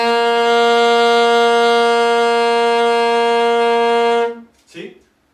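Saxophone holds one steady, lower, full tone for about four seconds, loud and close, then stops, followed by a brief faint sound.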